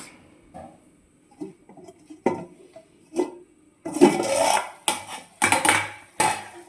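A lid is set on a cooking pan of egg curry with spring onion and potato, giving a couple of clattering metallic knocks and scrapes after some quieter kitchen clinks.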